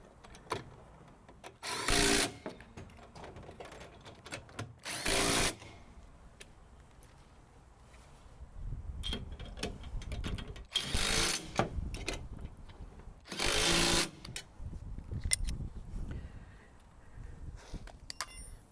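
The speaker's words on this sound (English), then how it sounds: "tightening up the mounting bolts, which secures the rear panel to the roll bar" On a Kubota BX2380 tractor, a power tool tightens the bolts that mount the cab's rear panel to the roll bar. It gives several loud, short bursts of whirring close by, with quieter handling noises between them.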